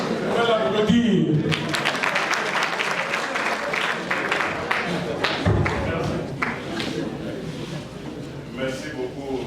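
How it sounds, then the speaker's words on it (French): An audience of young people at a political gathering with a senator applauds with sustained, fairly dense clapping at moderate loudness. Scattered louder claps stand out, and voices can be heard in the crowd. "On va l'applaudir."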